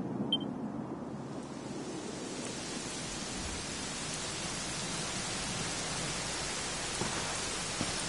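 Steady rain falling in the game Dragon Quest 11, a continuous even hiss of drops with a faint low rumble underneath and no voices.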